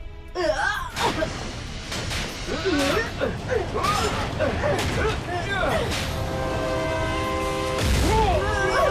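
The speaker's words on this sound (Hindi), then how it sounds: "लो अब ट्रेन आ रही है।" A train approaches in a dubbed Hindi episode of the animated Transformers Robots in Disguise, its horn and creaking mechanical rail clatter building loudly under and alongside voices and cartoon effects.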